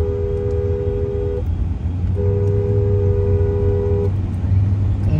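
A car horn honks at a wedding in Corfu, two long, steady blasts separated by a short gap over a continuous rumble of engines and traffic.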